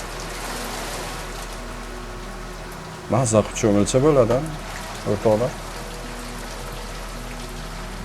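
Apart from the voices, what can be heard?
rain falling in Tashkent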